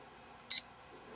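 One short, sharp high-pitched beep from a poker tournament dealer button with a blinds timer, marking the one-minute warning, alone in near silence.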